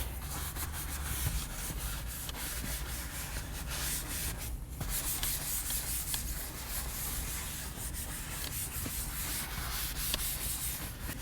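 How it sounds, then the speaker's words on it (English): Leather upholstery in a Bentley Continental GT being gently scrubbed with a brush to loosen dirt, a steady close rubbing and brushing noise that runs without a break, with no voices. "Keep in mind, we do not want to scrub very hard. Just gently agitating our leather"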